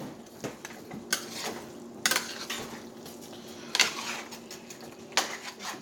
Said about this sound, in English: We're gonna go ahead and let this fry about a good 5 minutes